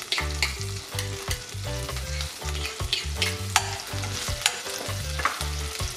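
Garlic sizzles in a frying pan while being stirred, with steady frying hiss and repeated scraping strokes of a utensil against the pan throughout.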